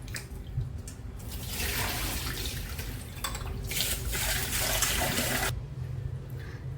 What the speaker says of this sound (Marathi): स्वच्छ धुवून घ्यायचे तांदूळ